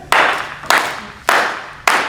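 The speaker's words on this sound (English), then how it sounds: "All you got to do is just clap your hands like this" Four loud, sharp hand claps land at an even, unhurried pace, each ringing briefly in a room at a community gathering, with no talk over them.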